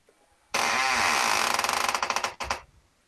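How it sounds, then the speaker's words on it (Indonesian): Game door sound effect played back as a burst of harsh, grinding mechanical noise that rattles faster and faster, then cuts off before a final short knock-like thud, loud and alone without speech. "Nah, pintu satu ini seperti itu suaranya."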